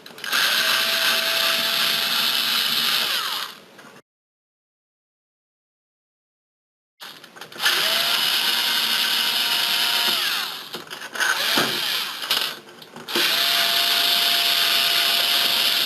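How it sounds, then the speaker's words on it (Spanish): An electric Phillips screwdriver removing screws from a PS3 console, with several long, loud motor whirs, a few seconds of silence between them, and some short stuttering bursts, no talking. "Yo voy a utilizar un destornillador de estrella, en este caso electrónico, para ir un poquito más rápido"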